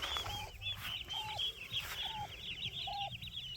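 Gray turkeys grazing on grass, giving repeated clucking calls in a steady rhythm, close and clear, with other birds faintly chirping behind them.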